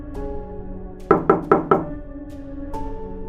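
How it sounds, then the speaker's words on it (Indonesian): Four loud, quick knocks in a steady rhythm ring out as a sound effect of knocking from upstairs, over a sustained eerie tonal drone, followed by a fainter single tap near the end. "mereka mendengar suara ketukan keras dari lantai atas"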